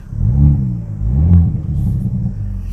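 A Hyundai i30 Fastback N Performance rated at 275 hp drives along with a deep, rumbling engine note that swells twice and settles, close and fairly loud.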